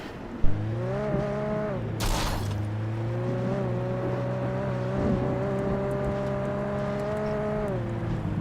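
Small jeep driven in the Alan Wake video game: a steady, tonal engine drone that rises and settles in pitch, with a brief harsh burst early on, heard alone and fairly close.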